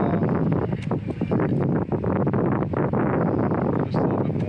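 Wind buffets the microphone outdoors on a windy day of fishing while casting a Yumoshi LV 200 reel, a loud, steady rushing roar throughout with no talk.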